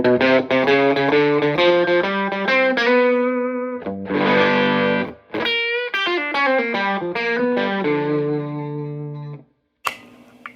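Electric guitar through a fuzz pedal on the neck pickup, playing dirty Chicago-style blues licks with held bends and quick runs, loud and close, with short gaps near the end and a brief click at the very end.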